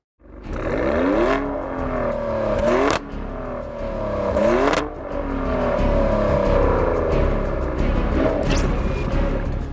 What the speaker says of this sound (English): So I'm in a 2023 Maserati Grecale Trofeo. It makes 523 horsepower and 457 pound-feet of torque.